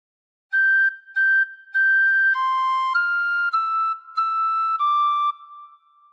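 A tin whistle plays a phrase of Hark the Herald Angels Sing: clear, pure, sustained notes, the first few repeated as short separate blows, then a stepping line that ends on a longer fading note, heard alone.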